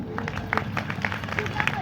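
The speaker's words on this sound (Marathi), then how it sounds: "टाळ्या असा मरेलवाणी वाजवायचं नाही, नाही तर वाजूच नका." A crowd at a Bhima Koregaon Shaurya Din commemoration rally in Wardha claps weakly and unevenly, with scattered claps in short bursts over a low murmur of voices.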